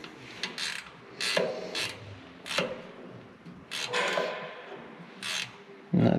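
Wrench work on a fitting of an ex-military Cat D7G dozer: several separate raspy metallic scrapes and ratchet-like clicks in irregular bursts, close and moderately loud, with a sharper knock near the end.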